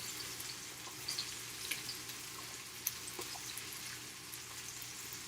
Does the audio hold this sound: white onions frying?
yes